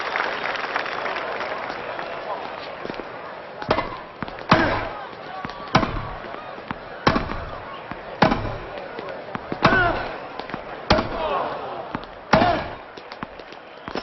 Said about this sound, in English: a thumping forehand into the backhand corner